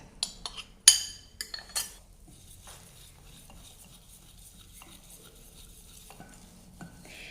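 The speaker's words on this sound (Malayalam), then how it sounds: "മൈദാമാവ് ചേർക്കുന്നത് നല്ലവണ്ണം ഒന്ന് മിക്സ് ആക്കിയിട്ട് വേണം അടുത്തത് ചേർക്കാൻ" Maida flour being stirred into a mango cupcake-style cake batter, with a few sharp spoon clinks against the bowl at the start, then a soft, steady scraping and mixing close by with no talking.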